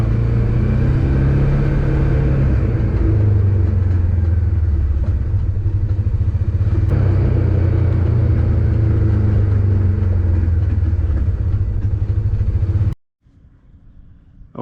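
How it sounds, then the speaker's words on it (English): Polaris Ranger utility vehicle slowing down with a steady engine rumble and a fine rattling clatter, attributed to loose brake pads while decelerating. The sound is loud and close, then drops away near the end to a faint idle. "The noise is a rattling for the brake pads, I believe, and I only hear it as I'm decelerating"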